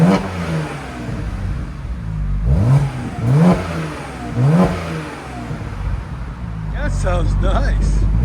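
A 2011 BMW 1M with a 3.0L turbo inline-six and its exhaust resonator deleted revs up in three sharp, close blips, then settles into a rising, sustained drone, with a voice speaking over parts of it.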